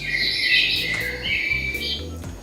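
Electronic bird chirps and tweets play from a small programmable toy turtle, a continuous high warbling song, fairly loud and close, over a low background hum.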